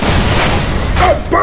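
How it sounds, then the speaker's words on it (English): A bomb blast booms in the zombie shooter game Left 4 Dead, loud and close, with a dense rumbling roar filling the whole moment. Brief game voice sounds rise near the end. "Stop bombing us!"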